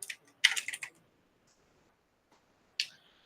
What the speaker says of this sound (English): I'm going to do 50 and then actually type out 50.